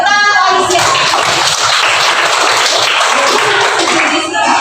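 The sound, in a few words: class applauding a student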